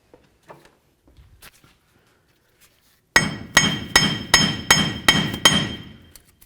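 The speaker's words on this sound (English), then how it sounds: "we're going to start separating the bearing from the knuckle itself" On a 1999–2007 Ford Super Duty F-250, a hammer strikes a steering knuckle to free the front wheel bearing: seven sharp metallic blows at a steady rhythm, close and loud after a quiet lead-in.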